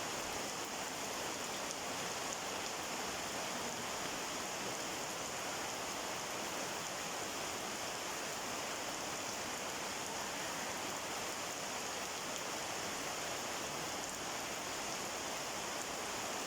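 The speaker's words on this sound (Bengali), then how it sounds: "নীরবে বৃষ্টি হচ্ছে" Quiet rain falling steadily outdoors beside a garden with newly planted banana trees, a constant even hiss of drops with no pauses and no voices.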